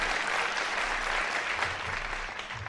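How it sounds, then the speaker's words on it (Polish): Steady audience applause fills the whole stretch, a continuous even patter of many hands at moderate loudness. "Brawa, brawa, Zbigniewa Górnego."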